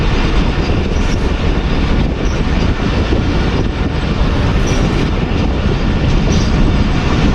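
Badar Express passenger train running through a station without stopping on the Lahore to Faisalabad line, a loud steady roar of wheels and carriages with rhythmic clatter, heard from close behind the locomotive.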